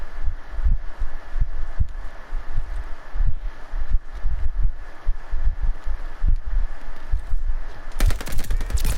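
Bursts of gunfire in the shooter game Vanguard, a steady run of sharp close shots at an uneven rhythm over a low rumbling backdrop, thickening into a dense volley at the end.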